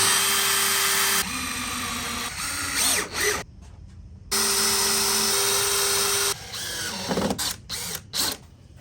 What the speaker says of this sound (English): We're going to go ahead and put screws in it to hold it until the glue dries.